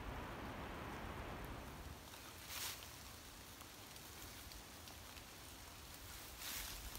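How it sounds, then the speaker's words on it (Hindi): Rain falls steadily outdoors in the hills, a soft continuous hiss with faint wind and slight swells, fairly quiet and without speech. "ज़रा दिखाएं इनको बारिश यहाँ की"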